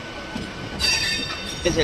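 Howrah-Puri Shatabdi Express train passing nearby, a steady rumble of rail noise with a surge of rushing wheel and carriage sound midway and brief squeals toward the end, with voices faintly beneath.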